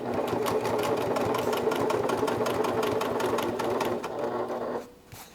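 A sewing machine backstitches a pocket, its needle running in a fast, even mechanical rhythm close by for several seconds before stopping abruptly.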